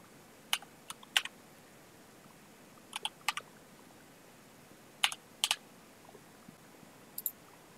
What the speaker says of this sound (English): Type the game pin into the input box.